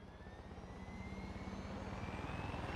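An aircraft engine in the video game Far Cry 6, a steady pulsing propeller drone with a rising whine that grows gradually louder as the plane takes off, with no voices.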